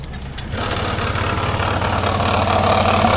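A motorcycle engine starts up and settles into a steady, rapid idle, running close and fairly loud.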